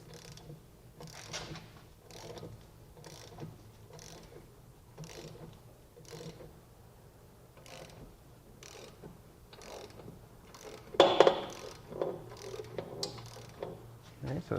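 A ratchet tightens a bolt on the rear drum brakes of a 2012 Mazda 2 with a steady series of crisp, fairly quiet clicks. A louder clatter of metal breaks in near the end.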